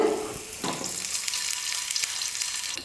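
Mustard seeds, urad dal and curry leaves sizzle in hot oil for a chutney tempering, with a steady bright crackling hiss, close and moderately loud, plus a few sharper pops.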